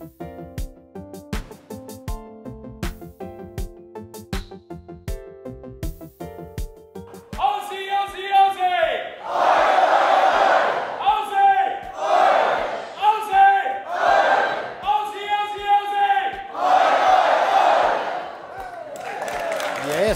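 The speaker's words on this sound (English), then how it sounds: "Our new town crier, he can make some noise." A town crier bellows loud, drawn-out proclamations at a citizenship ceremony, his voice echoing in bursts after a stretch of quieter background music, with the calls sounding forceful and close.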